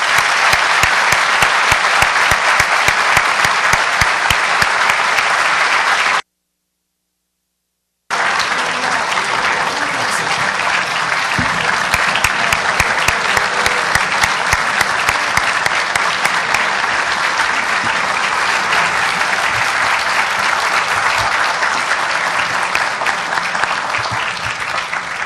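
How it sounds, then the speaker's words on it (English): An audience applauds a governors panel with loud, dense, sustained clapping, broken once by a short stretch of silence before the ovation carries on unchanged. "I'd like everybody to give a round of applause to the Governors."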